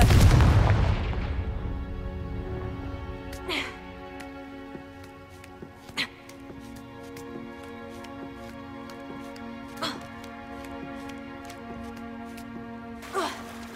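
Explosive Confringo spell blast in the video game Hogwarts Legacy: one loud, booming burst opens and slowly fades. Several sharp, scattered cracks follow over a sustained musical tone.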